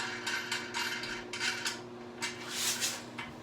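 Metal wing nuts turned by hand onto toilet tank bolts, giving a series of small scraping, ticking metallic clicks in irregular bursts, quiet and close, with no talking.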